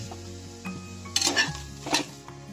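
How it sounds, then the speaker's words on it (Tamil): Onions dry-sautéed in a pan without oil for biryani, heard as scraping stirs and clinks of a utensil against the pan, with two louder bursts of stirring over a low steady background. "வெங்காயத்தை வந்து அப்படியே ட்ரையா போட்டு வதக்குறாங்க"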